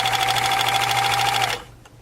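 A sewing machine stitches a lycra strap, a fast, loud, close buzzing run of needle strokes that stops abruptly after about a second and a half, followed by faint residual noise.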